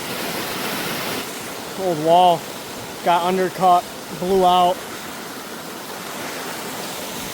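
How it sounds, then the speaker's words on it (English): Loud, steady rushing water pours through a culvert trash rack beside an old undercut wall, a constant roar that nearly drowns out someone talking over it. "I don't even know if you could hear me right there because how loud that water was"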